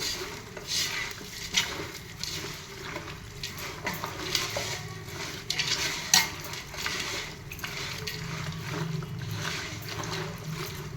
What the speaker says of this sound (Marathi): आलं लसूण पेस्ट दोन चमचे आणि हे सगळं मिक्स करून घ्यायचं